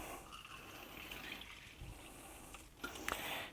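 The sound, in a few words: topping off grog with water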